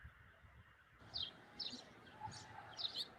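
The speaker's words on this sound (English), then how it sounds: "you got the birds chirping" Birds chirp in a residential backyard: a steady run of short, high chirps that starts after a second of quiet, fairly faint over low background hum, with no talking.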